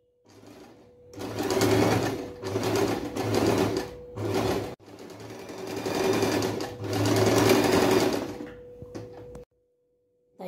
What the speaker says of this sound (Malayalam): അതിൻ്റെ സൈഡിൽ കൂടെ സ്റ്റിച്ച് ചെയ്തെടുക്കുക